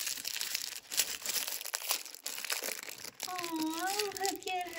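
Small toy baby dolls being unwrapped from a little swaddle blanket give close crinkling and rustling of fabric and packaging, while someone talks over it.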